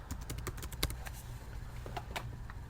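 Keys clatter on a computer keyboard in a quick, uneven run of close, crisp taps, with caps lock on while a word is typed, over a low steady room hum.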